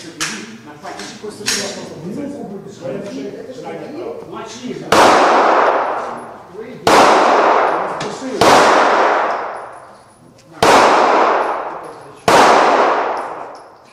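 Five loud, sharp gunshots ring out one at a time, a couple of seconds apart, at a combat shooting range during weapons safety training for journalists in Odesa; people talk over the earlier seconds.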